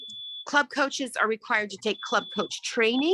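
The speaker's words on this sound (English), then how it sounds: "That's my fire alarm" A malfunctioning home fire alarm sounds a steady high electronic tone, continuous at first and returning later, under a person's ongoing speech.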